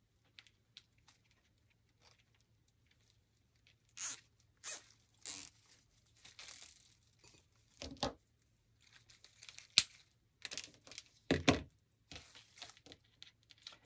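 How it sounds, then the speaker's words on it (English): Plastic zip ties being pulled tight while assembling a fall floral swag: quiet, sparse ratcheting zips and rustling bursts of foliage handling, close up in an otherwise silent room with no talking. "So let's zip tie these."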